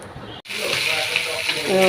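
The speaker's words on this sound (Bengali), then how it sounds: "এবারে মাছগুলোকে ধুয়ে নিই" Running water from a tap splashes and gushes steadily over fish being rinsed, close by, after a brief break near the start.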